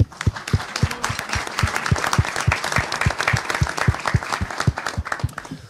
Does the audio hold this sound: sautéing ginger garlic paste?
no